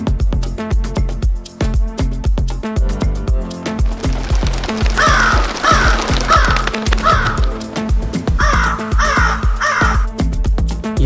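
A flock of crows caws loudly and close by in repeated bursts of harsh calls, set over a steady rhythmic thumping background, with no speech.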